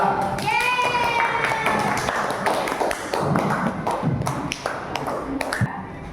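Schoolchildren in a classroom applaud a student group, a dense burst of quick hand claps and taps with children's voices and tonal chatter mixed throughout, fairly close and sustained.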